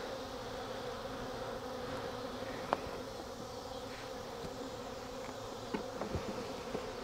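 Honey bees robbing a failing beehive, a dense continuous buzzing swarm close by with a few faint knocks and clicks, no talking.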